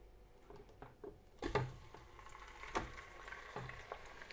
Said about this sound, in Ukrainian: Чуєте, як зашкварчало?